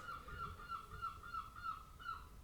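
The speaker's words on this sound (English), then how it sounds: "Excuse the seagulls." Seagulls call outside, a quick run of repeated, evenly spaced squawks, faint and distant, over a low background rumble.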